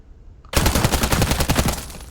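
Striker gun firing in Warzone, Black Ops 6 Season 3 on Verdansk Plunder: a loud, close, rapid burst of repeated shots erupts after a brief quiet moment and keeps hammering steadily to the end.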